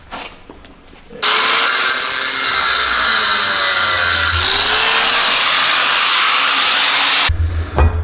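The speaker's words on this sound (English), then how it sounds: "Get this marked off with my slicer wheel." A slicer wheel on an angle grinder marks off steel parts for a leg lamp, a loud steady high-pitched whine running for about six seconds, with quieter shop noise before and after.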